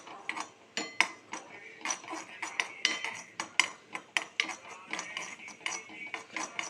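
Sesame seeds dry-roasting in a pan on the stove while a spoon stirs them, giving repeated close scraping and clinking strokes in an irregular rhythm, with no voice over it.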